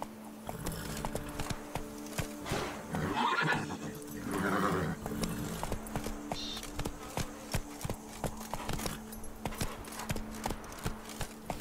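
Horse hooves clip-clop in The Witcher 3, a steady rhythmic trot of sharp clops with a couple of whinnies and snorts mixed in, close and clear throughout.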